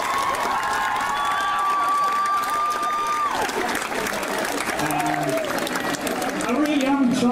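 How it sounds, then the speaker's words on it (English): Audience applause and cheering fill a hall after a staff member is thanked at a school event, loud and sustained throughout, with voices and a sustained musical tone running over the clapping. "Big round of applause for Mrs. Smith."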